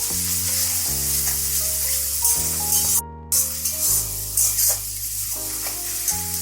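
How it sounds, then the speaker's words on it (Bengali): Ginger, garlic, onion and spices sauté in a pan for lote fish bhorta, giving a bright, continuous sizzle with stirring scrapes over steady background music and a brief dropout partway through. "এটাকে দিয়ে এবার ভালো করে আমি এটাকে কষিয়ে নেব"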